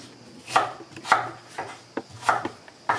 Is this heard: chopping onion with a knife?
yes